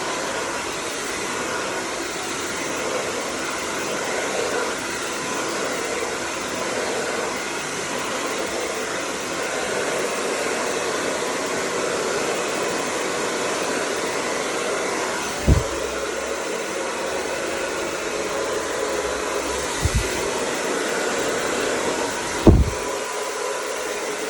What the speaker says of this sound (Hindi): ब्लो ड्राई भी बहुत ईजी है